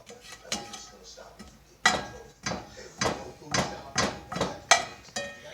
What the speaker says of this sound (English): you need spatula, and you're just gonna keep mixing it